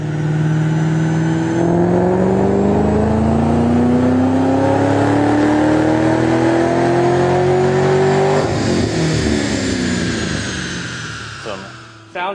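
A supercharged car with a full Magnaflow exhaust revs up on a DynoJet dyno, the engine pitch climbing steadily over a long loud pull before dropping off sharply and fading, close and dominant.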